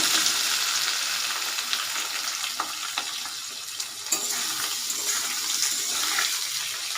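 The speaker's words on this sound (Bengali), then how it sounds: "ফোড়নটাকে নাড়িয়ে দেব, দিয়ে এবার দিয়ে দেব সিদ্ধ করে রাখা আলুটা।" Boiled potatoes go into a sizzling tempering in a pan, producing a bright, close, continuous frying hiss with soft stirring scrapes and small crackles, and no talking.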